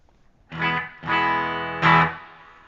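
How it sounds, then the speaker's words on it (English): Three electric guitar chords ring out one after another, each with a splashy spring reverb wash and a lingering decay. "And you can hear the decay of that reverb occurring."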